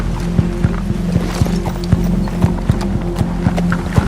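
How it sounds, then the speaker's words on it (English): Horses walking on a wagon trail, their hooves clip-clopping in a steady, fairly close rhythm of distinct knocks over a low background rumble. "Even the horses are getting impatient."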